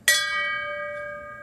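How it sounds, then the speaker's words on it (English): A single memorial bell struck once in tribute to the lost Edmund Fitzgerald crew at Sturgeon Bay, ringing out clearly with a sharp strike and a long, steady, slowly fading tonal hum. "the toll of 29 bells"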